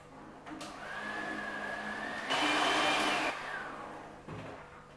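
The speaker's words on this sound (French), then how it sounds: "battre le tout avec votre fouet" A whisk beats butter and icing sugar for brownie cupcakes in a bowl, giving a steady whirring hum that swells louder in the middle and then eases off, with a faint clink near the end.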